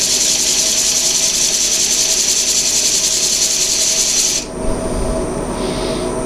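Continuous loud abrasive hiss of sanding against a spinning wooden disc on a lathe over a steady motor hum; the scratchy sound abruptly stops near the end, leaving the hum.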